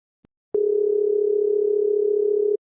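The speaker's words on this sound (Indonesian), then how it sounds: "Nova pun menghubungi Intan melalui telepon." A steady electronic telephone ringback tone holds one unbroken pitch for about two seconds after a faint click, clean and alone with no voices.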